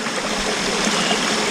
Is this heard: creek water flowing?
yes